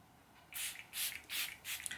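Rainbow Bridge spray hisses out in four quick, evenly spaced spritzes, close and soft in a quiet room.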